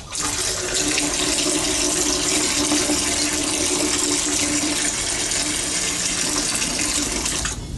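Water pours from a Gatorade container into a dog bowl for chihuahuas, a loud continuous splashing stream that runs steadily for several seconds with no voices.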